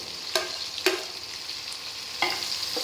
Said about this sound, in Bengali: এটাকে আমি হালকা করে ফ্রাই করে নেবো